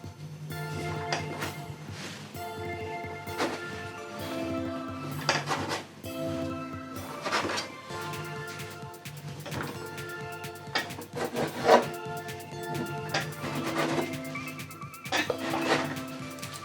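A knife cuts Japanese coconut mochi on a kitchen board, with repeated irregular taps and scrapes of utensils and dishes, close and moderately loud, no talking.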